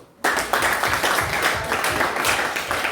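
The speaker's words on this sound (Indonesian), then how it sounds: "Kasih dulu aplaus." A class of students applauds, a burst of steady, brisk clapping from a roomful of hands that starts suddenly and keeps going evenly.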